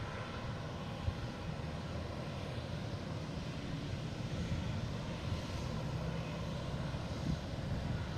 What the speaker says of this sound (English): we have JetBlue coming in from LAX and A321